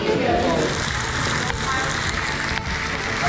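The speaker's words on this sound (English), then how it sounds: "Can you hear that rain?" Steady, dense rain hiss fills the air at close range in Tombstone, Arizona, with a murmur of voices and background chatter underneath.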